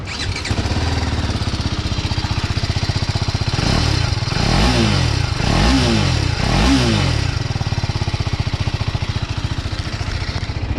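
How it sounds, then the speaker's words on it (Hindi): A 2020 TVS Apache RR 310 BS6 motorcycle exhaust at low RPM, a steady close-up putter with three quick blips of throttle in the middle, and no talking. "इसका जो इनिशियल RPM है उसमें अगर आप एग्जॉस्ट को सुनोगे तो आपको उतना अच्छा इसका फील नहीं आएगा"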